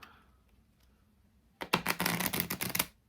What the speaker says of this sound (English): you just riffle the rest on, do the shuffle